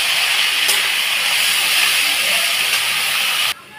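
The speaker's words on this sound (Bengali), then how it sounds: "এইবার আমি এর মধ্যে সঙ্গে সঙ্গে শাকগুলো ঢেলে দেবো।" Red amaranth greens poured into a hot pan with garlic set off a loud, close, continuous hissing sizzle that holds for over three seconds and then cuts off abruptly.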